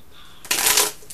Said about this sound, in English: I'm just killing time while I shuffle.